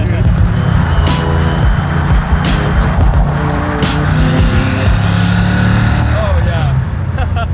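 A 755 hp LT5 V8 in a garage-built 1967 Chevy Camaro restomod drives with a loud, continuous rumble that rises and falls with the throttle, recorded close, with talk heard faintly over it.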